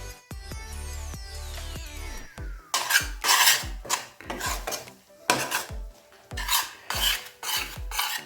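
Gram flour, wheat flour and semolina being stirred and dry-roasted in a pan, heard as repeated close, loud scraping and rasping strokes of a utensil against metal in an uneven rhythm.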